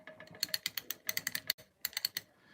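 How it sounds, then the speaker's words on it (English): Vintage R5 droid Star Wars toy figure clicking in rapid bursts of sharp, dry plastic clicks, close and fairly quiet, with a brief pause between the runs. "Of course, R5 makes the clicking sound"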